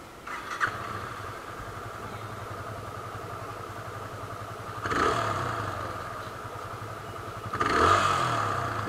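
Yamaha FZ 25 motorcycle engine idling steadily with a low, even exhaust note, then two brief revs around the middle and near the end that swell the sound before it settles back, heard close up with no talking.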